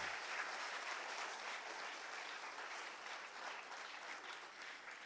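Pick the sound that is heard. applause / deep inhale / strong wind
applause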